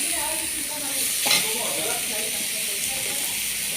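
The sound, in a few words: stir-frying cabbage and carrot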